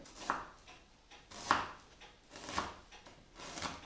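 Onion being chopped finely with a knife on a board, about four distinct, evenly spaced thuds with sharp knife clicks, close and fairly quiet, with no talk.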